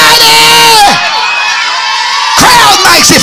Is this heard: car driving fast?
no